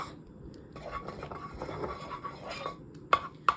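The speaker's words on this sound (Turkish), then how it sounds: "Tereyağını şöyle karıştırarak hızlıca eritiyoruz." Two tablespoons of butter being stirred to melt in a saucepan on the stove: quiet scraping and stirring, with two sharper clinks of the utensil against the pan near the end.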